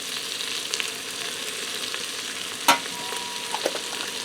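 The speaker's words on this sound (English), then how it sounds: "now that my peppers, onions, and bacon sauteed for about 5 minutes and the vegetables are starting to soften up" Peppers, onions, bacon and garlic sauté in a pressure cooker, giving a steady, close sizzle and crackle with a few sharp spatters and one louder pop.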